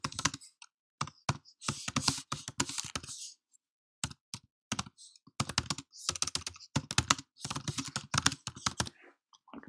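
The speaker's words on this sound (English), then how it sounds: "I can type." Someone types on a computer keyboard while writing a blog entry, with rapid, irregular clusters of crisp keystrokes broken by short pauses. It is close and clear, with no other sounds.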